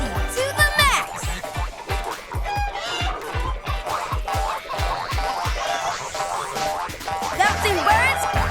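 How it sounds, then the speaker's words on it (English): Springy cartoon boings from pogo sticks bounce in a steady rapid rhythm on a farm, mixed with clucking chickens, a rooster and energetic voices talking over the action. "Faye, let's lasso the pogo sticks!"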